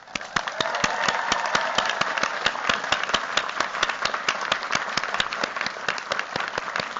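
Applause from a commencement crowd at UVA Law's 2026 ceremony, honoring graduates' families: steady clapping with sharp, regularly spaced claps standing out over a dense wash, sustained and fairly loud for the whole stretch.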